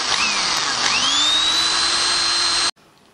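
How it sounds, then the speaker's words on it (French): A loud, steady high-pitched hammer drill whine with a rising pitch, running continuously for a few seconds before cutting off abruptly. "ils ont décidé de sortir la perceuse à percussion et de jouer avec pendant des heures."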